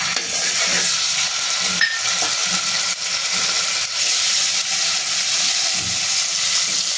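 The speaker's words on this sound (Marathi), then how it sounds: "त्याच पातेलीमध्ये थोडं तेल टाकून घेऊयात आणि आपण आलं आणि लसणाची पेस्ट टाकून घेऊयात" Ginger-garlic paste hits hot oil in a pot, sending up a loud continuous sizzle and hiss with occasional stirring scrapes, no talking.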